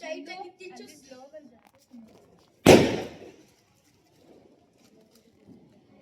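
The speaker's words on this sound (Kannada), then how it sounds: "ಇನ್ನೊಂದು ರಾಕೆಟ್ ಹೊಡಿತಾ ಇದ್ದಾರೆ" A single sharp Diwali firework rocket blast bursts out loudly after a stretch of talking, its roar trailing off over about a second before quiet returns.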